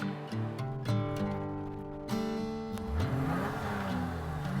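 BMW E30 engine running rough with fuel starvation on the Mojave Road: a steady, droning motor hum with harmonic tones that shift and slide as revs change, continuous and fairly close.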